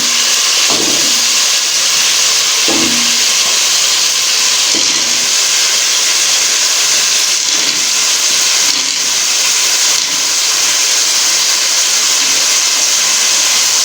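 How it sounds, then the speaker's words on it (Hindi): Masala hissing and sizzling in a pan as tomatoes, potatoes and peas go in for a shimla mirch aloo matar salan, a steady loud frying hiss with a few soft thuds of vegetables landing. "अभी इसमें हम टमाटर और हम आलू और इसमें मटर ऐड करते हैं।"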